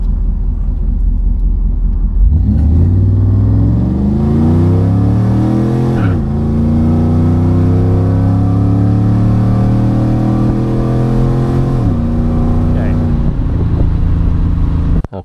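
A 1994 Camaro Z28 V8 running on a speed density tune, loud and close, starting up and then rising through long revving sweeps that drop back between pulls.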